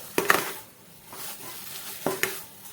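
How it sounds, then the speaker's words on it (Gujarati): Cooked moraiyo (barnyard millet) being stirred in a kadai over a low gas flame, giving a few soft scraping strokes with light sizzle at close range and no voices. "મોરૈયાને આપણે ધીમા ગેસ ઉપર જ આ રીતે હલાવતા ગયા છીએ"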